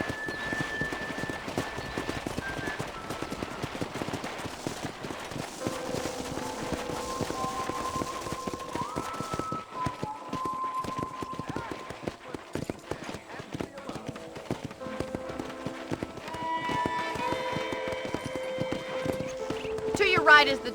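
Horse hooves clip-clopping at a walk in the Red Dead Redemption video game, steady muted hoofbeats running throughout under game music and spoken dialogue, with a brief whinny-like flourish near the end.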